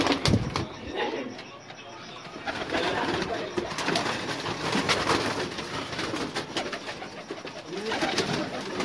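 Pigeons coo softly and repeatedly in a loft, with faint wing flutters and rustling, under a man's speech that runs through much of the scene.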